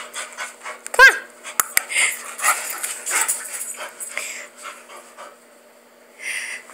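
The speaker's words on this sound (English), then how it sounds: "Silly dog." A dog pants in quick, close bursts with a sharp yelp and soft whimpers, moving around nearby during play.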